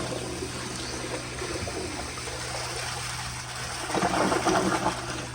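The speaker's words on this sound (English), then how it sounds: "So I'm gonna flush it again." A 1992 ADA URC Apollo toilet flushes with a steady rushing wash of water that swells louder near the end, heard up close and alone.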